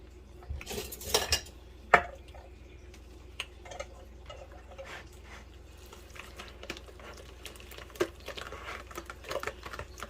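Crab cake mixture being mixed in a bowl at home, giving sparse clinks and taps of a utensil against the bowl with soft scraping between them, close but quiet, with a few louder knocks.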